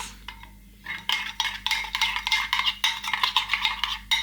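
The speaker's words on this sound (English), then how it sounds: "So you just want to give it a nice mix." Utensil scraping and clinking against a bowl while Moroccan chicken marinade ingredients with a tomato base are stirred, a steady rhythmic mixing close up with no talk.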